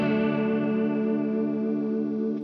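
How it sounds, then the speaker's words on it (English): Guitar chord ringing through a NAOMI Classic Chorus analog chorus pedal set to fast rate and high depth, a loud sustained sound with pronounced shimmering warble that slowly decays. "if you go for a fast one and a lot of depth, you'll hear how very pronounced the chorus effect is"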